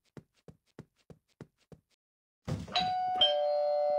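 Doorbell in the My Corp Cargo Simulator video game, a two-tone ding-dong chime ringing out clearly after a short series of soft knocks or taps, with the second tone lingering.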